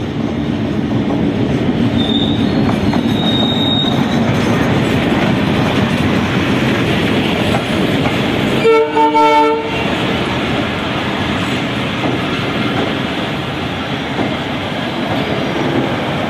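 A train runs through Jagati railway station in Bangladesh, with a steady loud rumble of rolling wagons throughout and one short horn blast in the middle.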